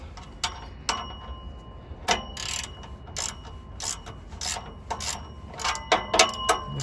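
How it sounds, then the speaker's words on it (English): A ratchet tightens catalytic converter bolts under a car, giving rapid clicking bursts in irregular groups, close and fairly loud, with no talking. "Once it stops moving, then you can tighten it using a ratchet."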